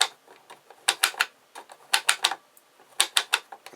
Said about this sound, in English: that's clicking on the ratchet as I want